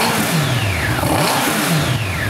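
A Fisher Fury kit car engine with a ZX12R motorcycle engine revs up and down in sweeping pitch rises, loud and close, with a steady rumbling drone underneath.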